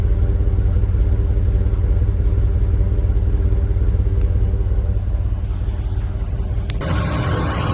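A truck with a camper, fitted with a newly installed 250-amp alternator, idles with a steady, close, deep engine rumble, and the tone shifts briefly near the end.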